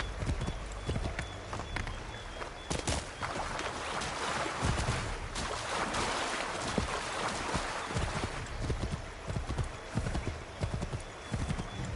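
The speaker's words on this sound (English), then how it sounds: "Get back on the horse" Hooves pound in a fast, continuous gallop close by, a rapid stream of thuds over rumbling noise, with a horse whinnying briefly.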